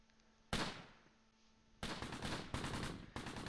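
Mortar barrage in the WWII tactical game Close Combat: a loud explosion burst, then a lull, then a series of heavy overlapping blasts arriving in quick succession, with no talking.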